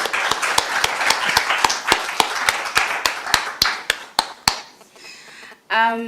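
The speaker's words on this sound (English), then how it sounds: "big round of applause for the panel?" Clapping for a panel at a citizenship conference session: sharp, evenly spaced claps ring out close and loud in a steady rhythm, then stop abruptly as a voice begins speaking.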